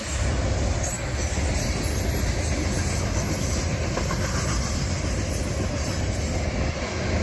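Southbound freight train M603 rolling past near Lakeland, Florida, a loud steady rumble of railcars with faint clickety-clack and some wheel hiss throughout, no voices.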